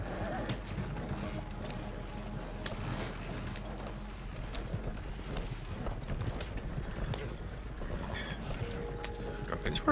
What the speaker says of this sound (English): These horses go fucking faster